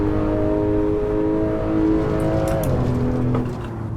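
Porsche Macan Turbo engine in Assetto Corsa on the Nordschleife, a steady loud drone holding pitch, briefly rising then easing as revs drop near the end, with faint tyre noise.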